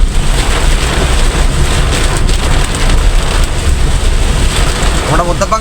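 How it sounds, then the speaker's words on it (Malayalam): Heavy rain drums loudly and steadily on a moving bus, a dense continuous roar with the wipers running at full speed, lasting throughout with no voices. "ഒരു രക്ഷയില്ലാത്ത മഴയാണ് കേട്ടോ."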